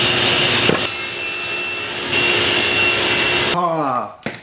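A power saw cuts walnut miter pieces, a loud steady whine heard close up for several seconds before spinning down, with a voice briefly speaking at the end.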